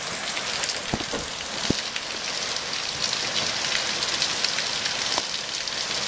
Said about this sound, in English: It's like pouring down rain.